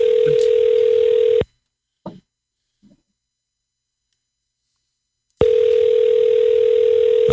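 A loud, steady telephone dial tone hums, cuts off abruptly into near silence broken by a couple of faint clicks, then resumes at full strength.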